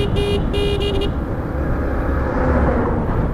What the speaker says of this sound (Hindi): देखिए हॉर्न में वाइब्रेशंस तो नहीं है।